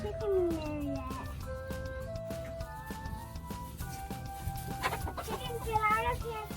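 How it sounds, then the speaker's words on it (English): Hens cluck and squawk close by inside a farm coop while eggs are being collected, with a person's voice faintly mixed in among the steady, busy bird calls. "Chicken, get out of here first."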